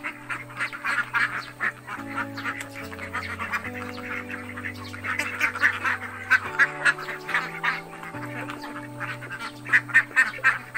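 Laying ducks in molt quack and honk steadily over a sustained droning hum, the calls overlapping in a busy, continuous chorus.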